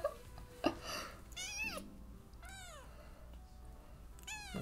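A young kitten meows several times, high rising and falling cries spaced out over a low background rumble, close and clear with no talk.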